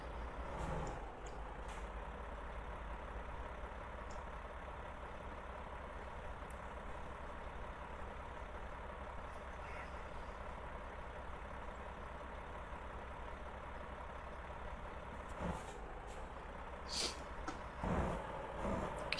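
In American Truck Simulator, a truck engine drones low and steady at idle, and sharp air-brake hisses and clicks come near the end.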